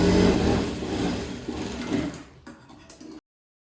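A sewing machine runs steadily while stitching salwar fabric in round one-inch seams along both sides, a loud, close mechanical whir that slows and thins before stopping abruptly.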